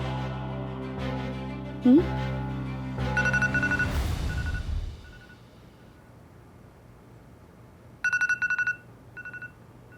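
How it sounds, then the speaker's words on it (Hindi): Music and other sounds fade out, then a telephone rings in short electronic bursts near the end, two separate rounds of rapid trilling tones. "गायत्री जी का फोन है।"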